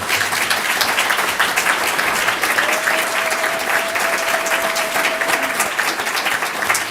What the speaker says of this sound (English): let us give ourselves a rousing round of applause